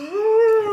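A voice imitates a wolf howl for a plush wolf character, a single short tonal howl that rises, holds a steady pitch and tails off slightly, close and clear with nothing else around it.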